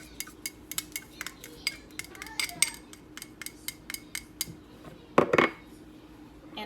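A knife chops onions on a board in a kitchen, with a quick series of sharp knocks and light clinks, close and clear, closing with a louder clatter of utensils.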